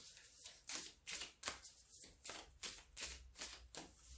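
A deck of tarot cards being shuffled and cut, with a steady series of papery riffling bursts roughly every half second, close and alone.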